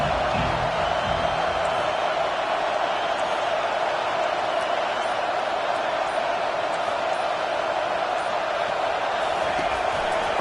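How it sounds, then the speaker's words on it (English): A college football stadium crowd at an Oklahoma at Florida game roars behind the defense on third down, a dense, loud, unbroken wall of cheering and noise that holds steady from start to finish. "Decibels rising as the crowd gets behind this defense on 3rd down."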